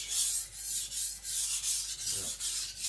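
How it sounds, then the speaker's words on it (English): An IKEA Chinese cleaver's edge is ground on a sharpening stone in steady back-and-forth strokes, making a close, continuous rasping hiss that swells and dips with each pass. No voices are heard. "Now taking it so thin that I'm sharpening it"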